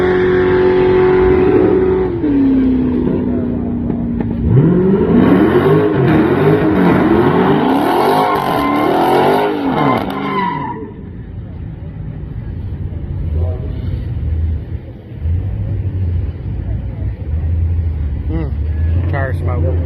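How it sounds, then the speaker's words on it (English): A Dodge Daytona making a drag strip pass: a loud, close engine roar that rises through several revving gear pulls, then fades to a lower rumble, with people talking over it. "We're gonna actually go and make a pass in the Daytona."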